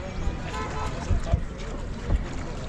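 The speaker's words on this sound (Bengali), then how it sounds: "চলুন শিকারা রাইডটা এনজয় করি।" A shikara boat glides across Dal Lake in Srinagar, with a steady wash of water and wind noise and soft low bumps from the hull, while a voice talks over it.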